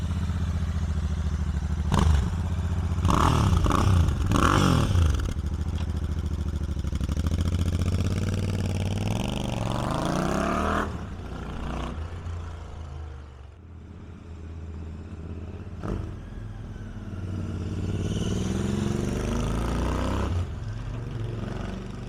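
A Royal Enfield Shotgun 650 motorcycle with a Rhino Racing exhaust revs hard several times, then settles into a rumbling idle with a few more throttle blips, close and loud.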